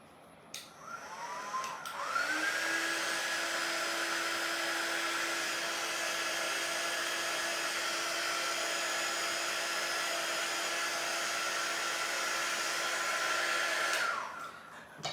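A hair dryer blows on paint on a canvas, starting up after a moment, then running as a steady, even whir for about twelve seconds before switching off, with no talking.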